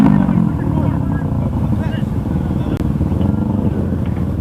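A motorcycle engine revs steadily close by, with a rough low drone during a roadside confrontation, and people talk over it.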